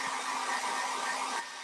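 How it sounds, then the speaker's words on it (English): A Babyliss hairdryer blowing a loud, steady rush of air close by, running continuously and dropping slightly in level near the end, with no talking. "we now go to the trusty Baby Bliss hairdryer"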